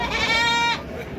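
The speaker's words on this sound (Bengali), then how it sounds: "পাঠা ছাগল" A single loud, close male goat bleat at the Baneshwar goat market, a strained harmonic cry lasting under a second before fading into crowd background.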